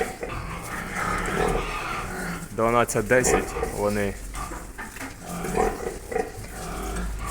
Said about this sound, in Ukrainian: Обід у поросят.